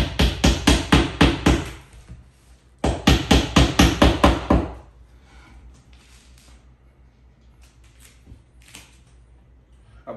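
A hammer taps nails into a Mainstays 3-shelf bookcase in quick, even bursts of sharp knocks, one run and then a second after a short pause, followed by faint scattered handling sounds.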